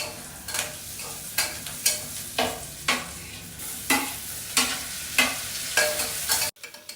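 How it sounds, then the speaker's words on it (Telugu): Onions and tomatoes frying in a pan for egg biryani, stirred in a steady rhythm of about a dozen scraping strokes over a soft sizzle, close and alone, ending abruptly. "బాగా ఫ్రై చేసుకోవాలి."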